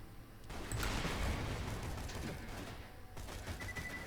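Gunfire in a video game, a burst of loud shots with rumbling echo, fairly close, followed by quieter ambient game noise, no speech.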